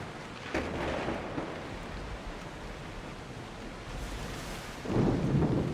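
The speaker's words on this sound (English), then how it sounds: "I don't like the look of that storm!" A thunderstorm at sea in Assassin's Creed Odyssey gives a dense wash of rain and rolling thunder, with a swell at the start and a louder rumble near the end, with no voices.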